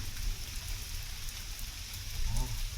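Steady rain falling in a forest during a storm, a continuous hiss of drops on surfaces, fairly loud and unbroken, with a faint voice briefly near the end.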